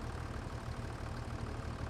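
A tractor engine idles steadily in Farming Simulator 25, a continuous low, even rumble at moderate level with no voices.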